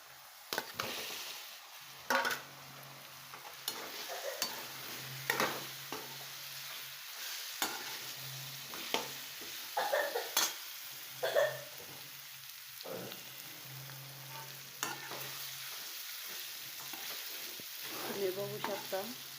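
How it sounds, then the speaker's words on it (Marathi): Diced potato stirred and sautéed in a pan for sabudana khichdi gives a steady soft sizzle, broken by irregular spatula scrapes and clicks throughout, close up, with no talking. "त्याला बटाटा टाकून परतून घ्यायचा आहे."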